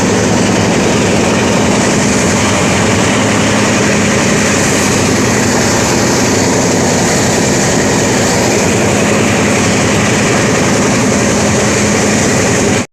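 A train rumbles steadily along the rails, a loud continuous roar with faint rhythmic clatter throughout.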